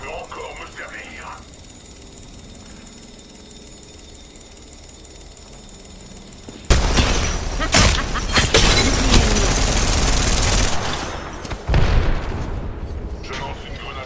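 Weapon fire in the video game Apex Legends erupts as dense, sharp bursts and booms after a quieter opening stretch. French-speaking voices talk over the game sound.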